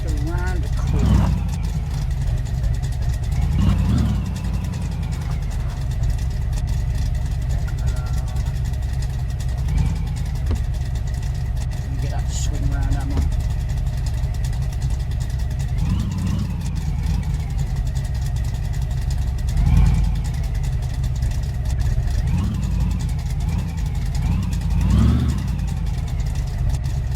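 Ford Focus engine hums steadily while driving downhill toward a corner, a continuous low drone with a few louder surges, and a voice talks over it throughout.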